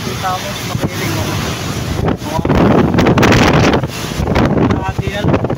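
Strong wind buffets the microphone in an open spot in Santo Tomas, a continuous loud roaring rush with gusts swelling toward the middle and end, with no voice over it.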